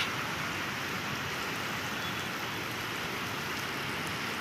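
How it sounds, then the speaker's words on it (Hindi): Steady, dense rainfall in Jeddah hissing continuously, a broad even wash of drops with no voices or other sounds. "देखो अभी बरस रहा है बारिश"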